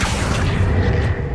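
An Accio summoning spell cast in Hogwarts Legacy, a single deep boom with a rushing whoosh that swells and fades within about a second.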